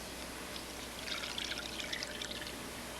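Low-fat milk pours from a container into a pot holding codfish, a soft, steady splashing trickle that swells after a brief start and continues at moderate volume, with nobody talking.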